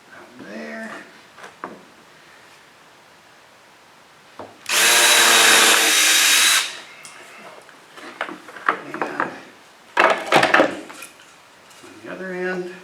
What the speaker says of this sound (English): just have to drill my holes out